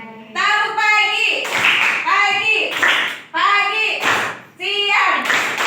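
Students in a classroom play a rhythmic clapping game, chanting together in unison with sharp bursts of group clapping that fall in a regular, repeating pattern.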